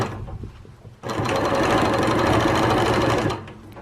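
A Handi Quilter Q16 longarm machine stitches straight quilting lines, a quiet hum at first and then a sudden loud, fast, steady mechanical chatter lasting about two seconds before winding down.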